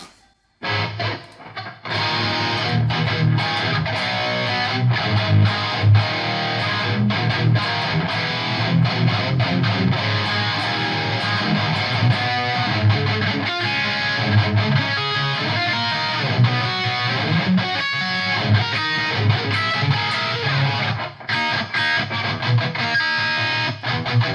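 An Ibanez RG1221 electric guitar plays chunky distorted riffs through a cabinet with a Dirty Tree boost and reverb pedal, boosted tone and reverb tail, loud and continuous throughout.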